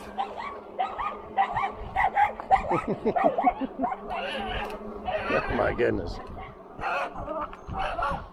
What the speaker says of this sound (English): This neighborhood's something else. About every other house has dogs.